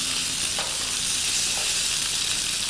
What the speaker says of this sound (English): You put in your calamari. Big fire for 1 minute stir fry.